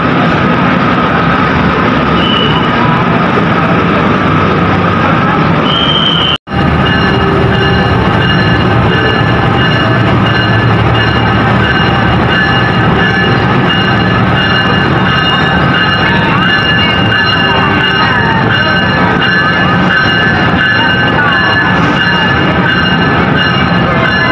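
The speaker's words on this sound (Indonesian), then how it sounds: "kereta api Blora-Sura diberangkatkan dari jalur 3 stasiun Surabaya Pasar Turi" The Blora-Sura passenger train pulls out of Surabaya Pasar Turi station, a loud, close, continuous rumble of wheels and engine that stays constant throughout, broken only by a momentary dropout.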